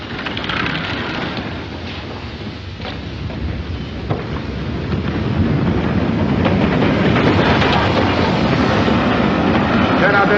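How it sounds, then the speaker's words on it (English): Steam-era train rolling into a station, a steady heavy rumble of wheels and carriages that swells louder toward the end, with voices faintly beneath. "The train's coming in."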